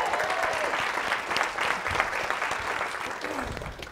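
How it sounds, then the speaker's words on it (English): An audience at a talk gives a round of applause, a steady wash of many hands clapping that holds for several seconds without pause. "Can everyone give Amanda a round of applause?"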